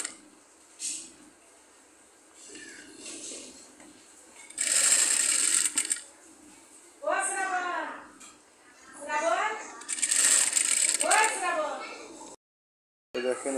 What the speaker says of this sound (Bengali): এই যে তারপর আমরা এইভাবে সাইডের পাইপিংটা সেলাই করে নেব।